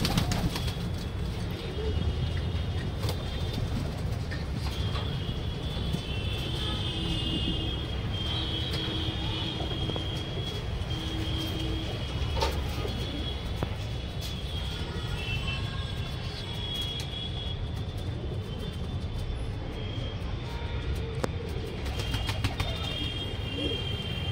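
Pakistani Kalsira pigeons coo in low, continuous, overlapping rumbles close by, over a constant broadband background noise.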